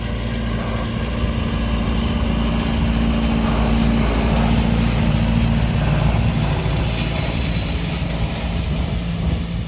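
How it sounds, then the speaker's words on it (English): A tractor pulling a hay rake in a hay field, a loud continuous engine drone with a steady low hum and rushing noise, unchanging throughout with no talking. "There comes Owen in the rake"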